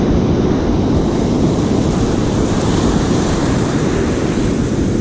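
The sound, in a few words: sea surf waves breaking on beach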